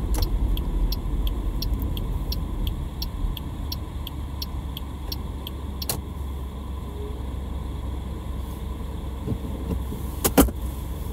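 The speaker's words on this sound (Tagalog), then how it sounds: "Busy na naman ang road." Road traffic on a busy road, heard from inside a car: a steady low engine and road rumble with a regular ticking like a turn signal early on and a few brief clicks, no talk.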